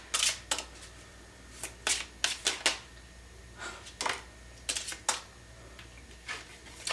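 Tarot cards being shuffled and handled at close range, a run of quick papery riffles and soft flicks in irregular bursts against quiet room tone, with no talking.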